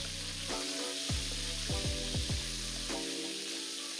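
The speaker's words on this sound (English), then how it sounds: "Now you want to give your tomatoes sizzle time in there so they start to develop more flavour." Tomatoes sizzle in a hot pot, giving a steady frying hiss with several sharp stirring scrapes, close and with no talking.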